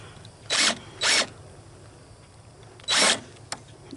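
A power drill drives a screw into the end of a cedar board, sounding as three short, loud whirring bursts with quiet gaps between them and no talk.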